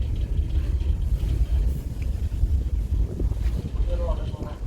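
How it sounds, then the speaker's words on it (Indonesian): KMP Portlink V ferry heard from the bow, a constant low engine rumble blended with wind buffeting and water wash, fairly loud and steady throughout with faint voices in the background. "Suara mesinnya juga nggak terlalu kerasa di haluan."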